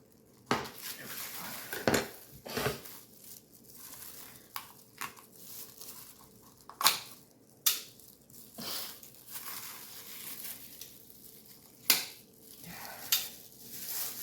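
Dull kitchen knife cutting through the skin of cooked food, a handful of sharp scraping crunches and clicks at irregular intervals, close up over quiet background clatter.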